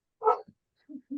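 A dog gives a short burst of barking indoors: one louder bark, then a few softer, lower yips, close and alone with no talk.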